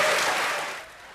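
Applause from an audience in a played recording, a dense wash of clapping that fades over about a second.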